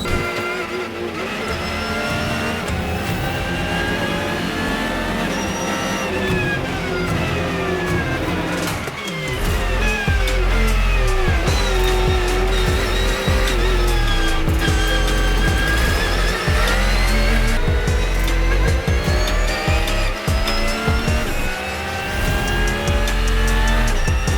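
Race cars roar past during the Dubai 24 Hours endurance race, engines howling and shifting through rising and falling pitches, loud and continuous with a brief dip before the sound surges again.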